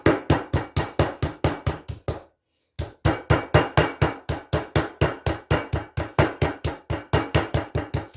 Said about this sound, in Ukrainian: Ну, так буду відбивати кожен тоненько, гарненько, тоненько.